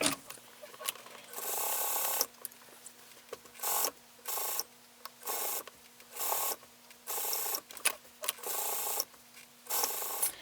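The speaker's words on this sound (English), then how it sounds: "We're going to top stitch along the bottom and then along the top." A sewing machine top stitches a gothic mini corset belt in short, fairly regular bursts separated by brief pauses. The mechanical whirr is close and runs with no talking.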